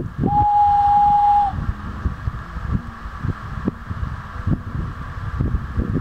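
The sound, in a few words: person imitating a loon call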